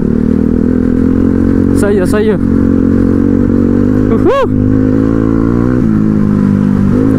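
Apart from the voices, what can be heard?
motorcycle riding off-road on slippery ground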